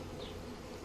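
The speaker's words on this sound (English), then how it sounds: "the rest of these bees are just going to have to become part of the other" Honey bees from a swarm being combined into a hive with two deep boxes make a dense, steady buzzing hum, close and continuous for under a second.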